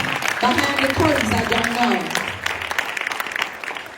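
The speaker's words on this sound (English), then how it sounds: "let's give them applause, because there are some people behind the curtains" Applause from a banquet audience for the program team, fairly loud, with a voice speaking over the first half before the clapping continues alone.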